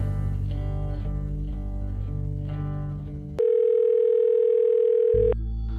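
A telephone call's ringback tone pulses in short, evenly spaced bursts, then gives way to a single loud, steady electronic tone that holds for about two seconds before cutting off.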